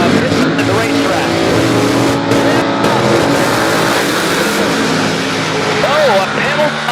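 Loud, continuous drag strip roar from racing cars, including a 1969 Camaro, during Friday funny car qualifying at Great Lakes Dragaway, with a commentator talking over it throughout.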